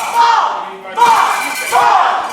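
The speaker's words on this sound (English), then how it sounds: "As you hear the mob chant, this crowd is torn." Wrestling crowd at a GLWA Ultimate Survivors Rumble event chanting loudly in repeated rhythmic bursts, roughly three swelling chants that fill the arena.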